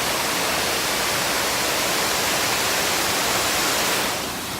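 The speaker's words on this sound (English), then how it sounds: "So we're going for one last refreshing round of the water features." Flowing water features pour in a dense, loud, continuous broadband rush that holds steady throughout and eases slightly at the very end, with no voices.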